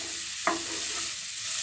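Cabbage, carrot and beans being sautéed in a pan for fried rice, a brief steady sizzle with a single sharp scrape of the spatula near the start.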